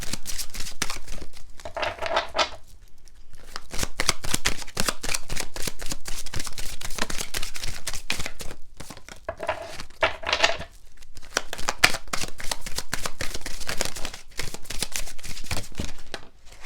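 A deck of oracle cards being shuffled by hand, rapid crisp riffling and flicking in dense bursts with short pauses between rounds, close and continuous, no voices.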